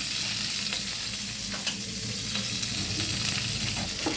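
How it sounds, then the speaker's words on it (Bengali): Slit green chillies crackle in hot oil for a cabbage and prawn curry, a continuous close sizzle broken by occasional spatula scrapes and small pops, with no talking. "কাঁচা লঙ্কা চিড়ে সম্বারে দিয়ে দিলাম"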